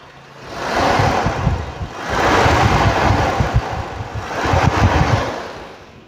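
The 2000 cc engine of a 1980 Toyota Corona ST132 is revved three times in slow swells, its loud, close rumble and exhaust rising and falling with a roaring, wind-like hiss.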